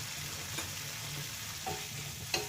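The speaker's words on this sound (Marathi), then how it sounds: "त्याला परतून घेऊया." Pav bhaji vegetables with coriander are stirred and sautéed in a pan, giving a soft continuous sizzle with a few light spatula scrapes against the metal, close and fairly quiet, with no voices.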